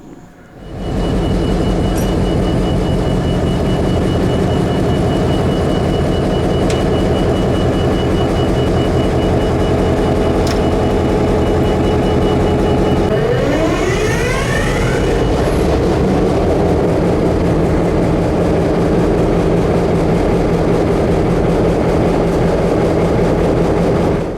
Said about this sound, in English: the crews of the Delta Southern Railroad are prepping their pair of locomotives for the day's